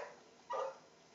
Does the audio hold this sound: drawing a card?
no